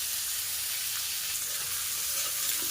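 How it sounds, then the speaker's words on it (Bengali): Potatoes and sliced onions sizzle in hot oil in a pan while a Bengali fish curry is being prepared. A steady, bright frying hiss carries on evenly and alone throughout. "এবার পেঁয়াজের সাথে আলুটাকে একটু লাল লাল করে ভাজা করে নেব।"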